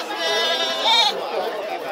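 A fat goat bleats close by in a long wavering cry, with a busy market murmur in the background at the Tabira animal fair in Brazil.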